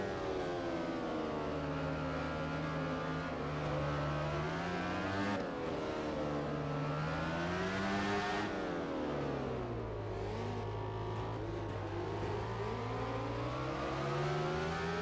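Motorcycle engine in the MotoGP 13 racing game at the Assen circuit, a loud continuous high-pitched engine note rising and falling through gear changes as the bike accelerates and slows into corners.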